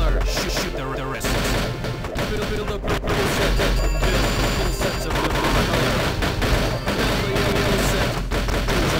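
Dense, loud gunshots in the Carnival King arcade shooting game run continuously over busy game music and effects, with a game voice announcing in between.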